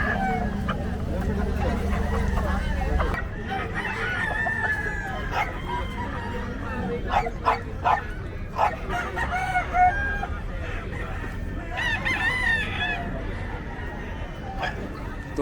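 A rooster crows repeatedly among clucking fighting-cock chickens and chattering voices at a pet market in Bocaue, with busy outdoor background noise throughout.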